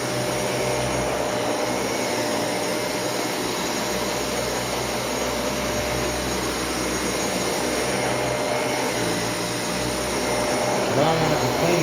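A Dyson Cinetic Big Ball vacuum cleaner runs steadily and loudly close by, its constant whooshing roar holding at one level for the whole stretch with no talk over it.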